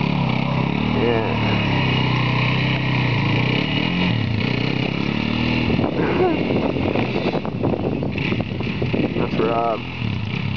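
An Arctic Cat DVX 400 ATV engine revs hard and steadily while the quad spins out in circles, a loud continuous drone that rises and wavers, with people talking over it.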